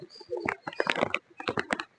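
Soft, low pigeon coos in short bursts with brief pauses, fairly close, over a faint background during light rain.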